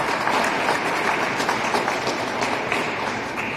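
Audience applause at a celebration of the Massachusetts National Guard's 389th birthday, a steady dense clapping from a crowd lasting throughout.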